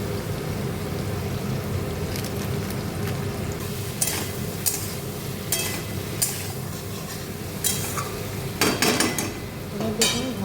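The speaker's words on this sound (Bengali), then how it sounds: "এবার ওপর থেকে একটু লবণ হলুদ লঙ্কার গুঁড়ো দিয়ে দিচ্ছি লঙ্কার গুঁড়ো দিয়ে আমি ভেজে নেব" Boiled potatoes seasoned with salt, turmeric and chili powder fry in a pan for aloo dum, a steady dense sizzle running throughout with occasional spoon scrapes and utensil clinks, close up and without speech.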